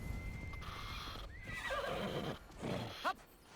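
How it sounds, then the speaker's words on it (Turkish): A horse in Assassin's Creed Odyssey gives a rising whinny and then a short snorting neigh near the end, with hoofbeats and game ambience underneath. "Bizim at cehennem atı."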